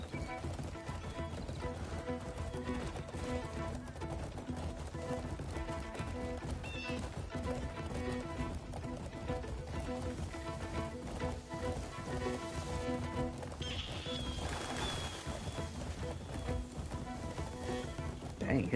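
Rhythmic hoofbeats of a galloping horse in the video game Crimson Desert drum steadily under layered game music and ambient noise, with a brief whinny-like sound partway through.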